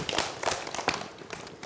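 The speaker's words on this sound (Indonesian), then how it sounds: "Oke, tepuk tangan dong" Brief, scattered clapping from an audience with children at a talk on road signs and crossing the street: irregular, fairly soft bursts of hand claps over a short stretch.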